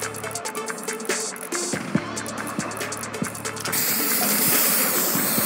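Spray-painting graffiti on an ice cream truck in Fortnite: ratcheting mechanical clicks and game noise, then a continuous hissing spray burst near the end, no talk.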